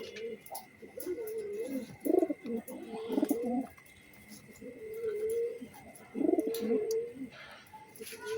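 A Budapest racing pigeon coos nearby in repeated bursts of low throaty calls, separated by short pauses.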